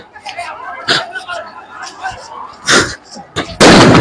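Repeated sharp gunfire, with rubber bullets and tear gas shells, cracks out in loud bursts outside Khulna University amid a crowd, the shots cutting through near, excited talking and background hubbub.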